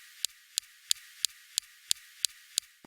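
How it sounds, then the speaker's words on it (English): Perseverance rover's SuperCam laser zapping rocks on Mars: eight sharp, evenly spaced clicks, about three per second, each a crisp high tick over a faint hiss. "Next, we have the SuperCam laser zapping rocks."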